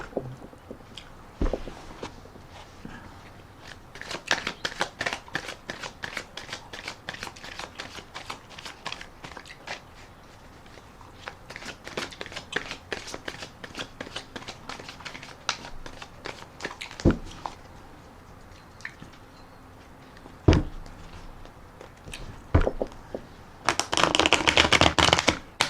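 Repeated riffle shuffles of a tarot deck, crisp rapid fluttering bursts with brief pauses between, close and fairly loud, no talking.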